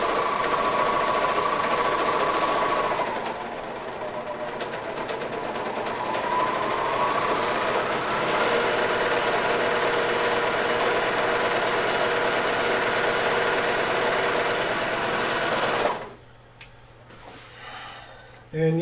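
A serger sewing machine with two needles stitches in a steady, continuous mechanical whir for about sixteen seconds, close and loud, then stops abruptly, leaving a quiet room with faint rustling.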